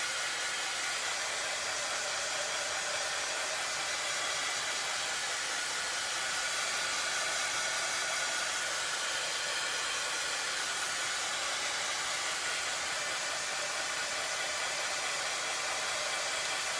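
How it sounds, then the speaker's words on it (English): A heat tool blows steadily throughout, drying a buffalo-plaid love heart craft project with a loud, continuous airy roar and no talking. "I'm going to go ahead and use my heat tool again, and I'm going to get this all dried up."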